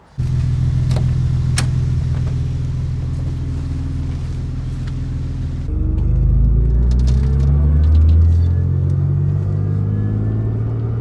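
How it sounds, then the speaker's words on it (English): A BMW E36 on a test drive after a wheel-rubbing problem, heard from inside the car: a steady, loud engine drone that shifts pitch midway as the car changes gear and accelerates. No one talks. "get in this car, take it out for a little test drive"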